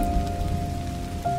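Steady rain falls outdoors, a soft continuous patter and wash of drops on surfaces, fairly quiet and even throughout with a faint low hum underneath.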